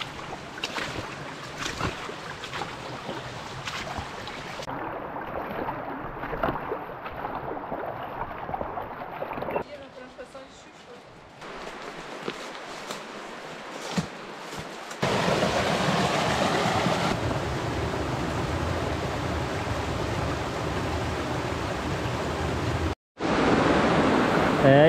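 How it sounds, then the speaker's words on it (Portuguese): River water rushes across a flooded canyon trail swollen by heavy rains, a continuous loud roar and splashing that shifts in intensity as the crossing proceeds. "tava atravessando o rio de novo."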